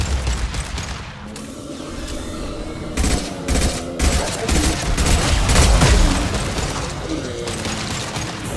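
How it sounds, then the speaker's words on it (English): Rapid gunfire and heavy impacts in the video game Mass Effect 2, with a concussive shot among dense bursts of shots and booms, and voices talking over the battle. "Firing concussive shot!"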